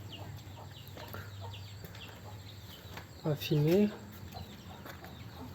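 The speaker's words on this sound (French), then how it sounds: "dans quel collège vous avez vu des poules se balader" Chickens wandering a school courtyard in Indonesia, with a loud near cluck-and-squawk call in the middle and fainter clucks around it, while a person speaks briefly.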